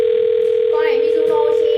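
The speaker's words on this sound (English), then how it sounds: "I'm going to dial her phone number right now" A steady telephone dial tone holds a constant pitch throughout, loud and clear, with a person's voice briefly audible underneath partway through.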